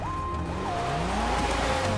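Sports car in GTA 5 racing up a mountain road, a steady engine roar rising and falling in pitch with gear changes, loud and close, alone without talk.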